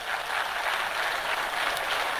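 An audience at a university talk applauds a young professor, producing a dense, steady clapping that fills the short stretch with no talking.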